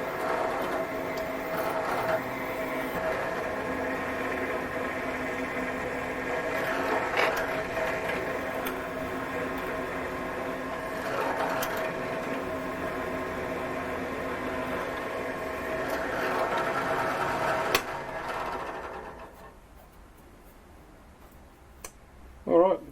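Gingery homemade mill drilling holes: a steady mechanical whir with a ticking, clicking rhythm that runs for most of the stretch, then winds down to near quiet before a brief clunk at the end.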